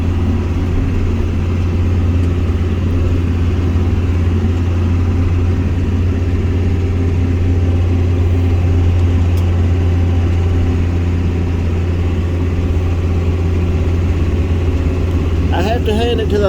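A Rhino bush hog mower runs steadily behind a tractor engine, a constant low droning hum with mid-range rattle that holds unchanged throughout, close and loud, ending with a brief burst of higher clatter.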